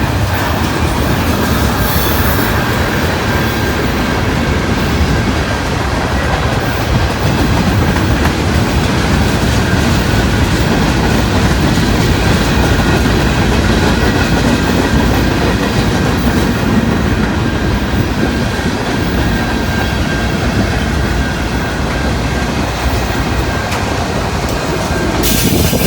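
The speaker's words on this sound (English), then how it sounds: "they just cleared the 5-track railroad crossing here in Dalton" Freight train loaded with ballast or gravel rolling through a 5-track railroad crossing in Dalton, Georgia, a loud continuous rumble with clattering wheels and faint squeal throughout.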